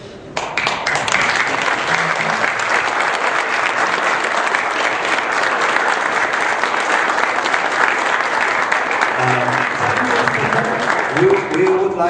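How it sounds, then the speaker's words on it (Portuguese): A crowd at the opening ceremony of a Brazilian coffee quality competition breaks into loud, sustained applause that starts abruptly and continues evenly throughout, with a few voices surfacing near the end. "Podemos ficar de pé para aplaudir?"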